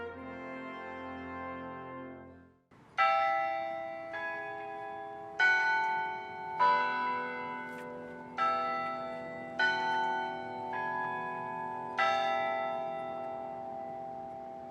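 Shafer Tower's bells at Ball State University ring out a slow sequence of resonant strikes, each one ringing on and overlapping the next, loud and clear without voices.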